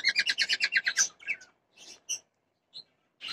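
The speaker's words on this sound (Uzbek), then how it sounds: "Modaga yoqish uchun modaga yoqish uchun shunday sayraydi." A bird sings in courtship display to a female, spreading its wings: a fast run of about ten bright, evenly spaced chirps, then scattered shorter notes and squeaks with quiet gaps, close and clear.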